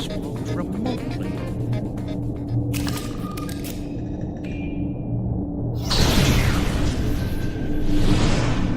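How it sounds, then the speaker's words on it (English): A console blows up in a video game with a sudden deep burst followed by a roaring, sweeping rush that holds loudly through the end. Low mechanical tones and clicks come before it. "Not the explosion I was looking for, but it'll do."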